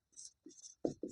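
Pen or chalk writing in short scratchy strokes, four quick separate bursts close up in a quiet room, with no talking.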